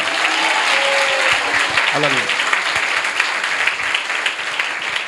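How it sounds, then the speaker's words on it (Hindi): A church congregation applauding during a pastor's sermon: loud, sustained crowd clapping fills the space, with a voice briefly rising over it early on and individual claps standing out toward the end. "बजाइए ना तालियां, बजानी है"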